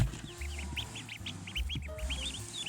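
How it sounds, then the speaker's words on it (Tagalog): Newly hatched chicks, still wet and barely able to stand, peeping in a rapid series of high, chirpy calls, close by, over a low rumbling background. "Bagong-bagong pisa"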